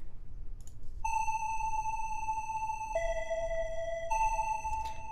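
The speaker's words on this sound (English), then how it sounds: "I have like a square wave from Massive here. Square saw. It's just one square wave." Plain square-wave synth lead from the Massive plugin plays a short melody of sustained, bright buzzy tones that step between a few pitches, alone and fairly quiet over faint background hiss.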